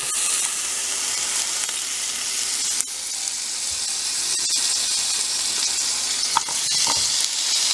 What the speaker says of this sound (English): we are going to be tossing in our garlic, snow peas, and red pepper